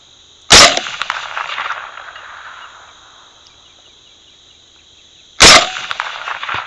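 Two sharp cracks from a Goyojo GRL335 air rifle fired at a hog, spaced about five seconds apart, each followed by a brief ringing tail over a steady high insect drone outdoors.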